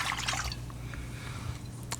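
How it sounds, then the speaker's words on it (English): Water pouring into a smoothie blender jar, a steady liquid trickle and splash running close and alone for about two seconds. "So I'm going to add a little bit more water to it, just so it's nice and runny."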